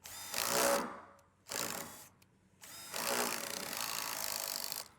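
A power drill drives a self-tapping screw into deck framing in three bursts, two short and one longer steady run, each stopping abruptly, close up with no talking.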